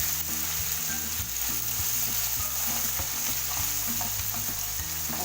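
Thinly sliced onion frying in spluttering oil, a dense loud sizzle with a steady repeating mechanical hum underneath throughout.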